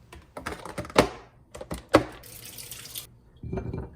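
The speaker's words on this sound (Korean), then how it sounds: "우선 체리도 같이 먹을 거라서 어, 마음에 드는 것들 골라서 씻어 놓을게요." Cherries rinsed under a running kitchen tap, a short burst of water spray against the sink amid a few sharp clicks and knocks, with no voices.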